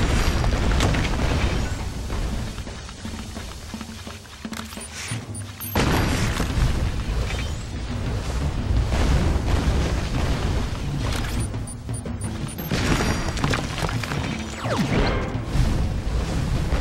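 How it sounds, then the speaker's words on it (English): Loud booming blasts and rumbling from a bomb breaking open a small cubby hole in Sly 4: Thieves in Time, with a sharp burst near six seconds amid continuous dense game noise. "you'll have to bomb your way into this little cubby hole"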